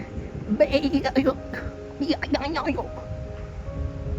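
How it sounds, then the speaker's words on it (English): A mountain goat bleats in a few wavering, nasal calls, two clear bursts close by over faint outdoor wind noise. "There's a mountain goat."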